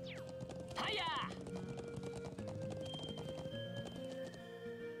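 Horse hooves clip-clop in the video game Trails of Cold Steel, steady and rhythmic under game music, with a brief whinny, while a person talks over it.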